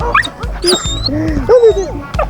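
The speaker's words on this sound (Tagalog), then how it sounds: "Ito yung mga nagkikaibigan ko ng mga aso." Several dogs met on an outdoor walk whimper, whine and give short yips close by, with rising and falling high-pitched cries in quick succession.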